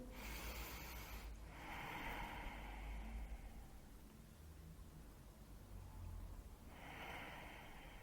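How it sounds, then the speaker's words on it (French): Slow, deep abdominal breaths during a lying yoga relaxation, with two long airy inhales or exhales several seconds apart, soft and close over faint room hiss. "faites quelques respirations abdominales"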